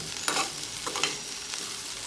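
Sliced okra frying in a pan for chutney, a soft sizzle with quick scraping stirs of a spoon, close and fairly quiet.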